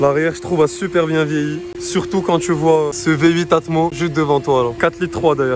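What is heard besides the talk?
No everyday noises stand out.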